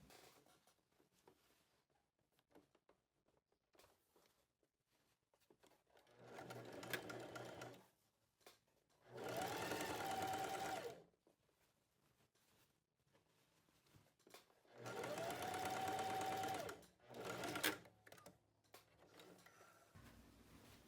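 A sewing machine stitches a close seam along the top of a blouse in three separate bursts, the last two long and steady, with quiet handling between them.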